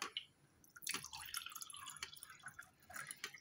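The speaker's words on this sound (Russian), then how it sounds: "наливаете в пустой стакан воду" Water is poured into an empty glass, giving a close, quiet run of splashing and dripping with irregular bursts and no talking.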